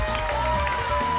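A Taiwanese variety show audience claps and cheers to greet a guest, a continuous, full burst of applause with a bright musical tone running through it.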